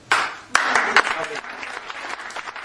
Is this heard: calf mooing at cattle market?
no